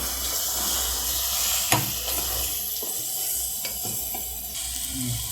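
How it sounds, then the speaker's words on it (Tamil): Mutton being stirred into masala in a pan, with a steady sizzle and scraping spoon clatter, plus a few sharper knocks against the pan, close and continuous without talk. "இனி நல்லா இதை மசாலாவோடு நல்லா சேர்ந்து மிக்ஸ் பண்ணி விட்டுடலாம்"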